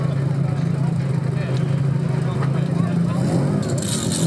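A BMW E30 M3 rally car idles at a minirally in Liptovské Sliače with a steady, low engine hum. Someone talks continuously over it.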